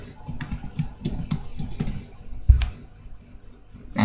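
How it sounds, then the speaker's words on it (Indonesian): Keys tapped on a computer keyboard during Spring Framework coding, a short run of crisp clicks with a couple of separate presses afterwards, close and clear, no voices. "Kita bisa cari dengan menekan Ctrl F."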